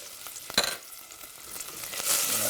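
Bacon renders in a pan over medium heat with a soft, steady sizzle, a sharp clack of a utensil near the start, and the frying swelling slightly louder toward the end.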